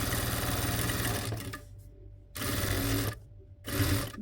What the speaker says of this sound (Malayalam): ആദ്യം ഇതുപോലെ ഒരു മടക്ക് കൊടുത്തിട്ട് സ്റ്റിച്ച് ചെയ്തിട്ട് രണ്ടാമതൊന്നും കൂടെ നമുക്ക് മടക്കിയടിക്കാം